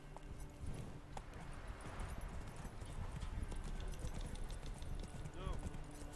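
Roach, a horse in The Witcher 3 game, clip-clops steadily at a walking pace, hoofbeats fairly close under continuous background game ambience and a speaking voice.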